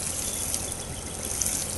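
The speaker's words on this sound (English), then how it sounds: "So I'm going to be watering under the entire root zone, under the drip line of the tree." Water from a garden hose soaking the root ball of a tree, a steady, hissing gush with faint splashing, continuous and moderately quiet throughout.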